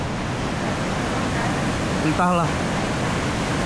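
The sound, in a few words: flooded city river rushing water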